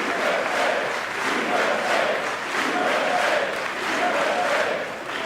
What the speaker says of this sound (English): the crowd did get into the USA chant